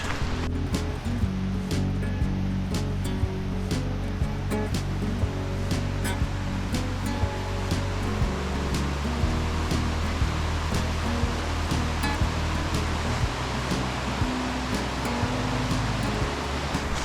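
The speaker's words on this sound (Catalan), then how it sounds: "Ja estem a la vora del riu, el tenim allà davant a uns 100 metres i anem baixant." The Urederra river rushes nearby in Navarra, a steady broadband roar of flowing water heard continuously and fairly loud, with occasional faint clicks and no talk.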